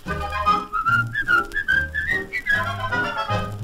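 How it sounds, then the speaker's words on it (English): A person whistles a cheerful, bouncing tune alone, with clear sustained notes that glide between pitches over a steady low musical accompaniment. "Pucker up your lips and whistle at the sunlight."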